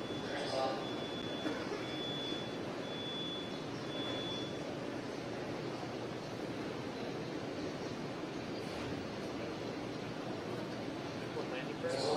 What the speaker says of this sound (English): Landing burn has begun.